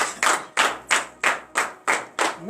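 A congregation at a morning prayer service claps in unison, seven loud, evenly spaced claps about a third of a second apart, with no talk.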